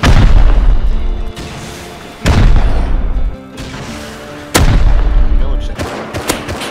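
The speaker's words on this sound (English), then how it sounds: "I'm gonna incendiary rocket it" Loud explosions in the video game Rust, where incendiary rockets are fired at a base, with three big booming blasts at roughly even intervals, each trailing off into a roaring tail.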